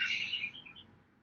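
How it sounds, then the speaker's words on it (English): A cuckoo clock goes off in the background of an online community meeting, giving a short bright chirping call that falls in pitch and fades within about a second, with no talk over it. "Your cuckoo clock's going off there, Gri."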